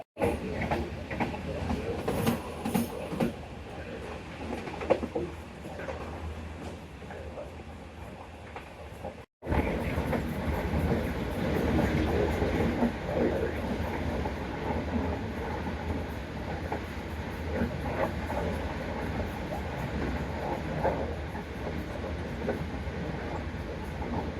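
The Karakoram Express runs at speed behind an American locomotive, a constant rolling rumble with clickety-clack of wheels on rail joints, a brief cut partway through, then the heavy steady roar resumes, no voices.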